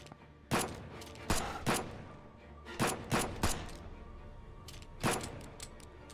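Gunfire in a Silent Hill-style horror video game, a series of loud, sharp shots in small clusters and single blasts spread across several seconds over a low ambient background.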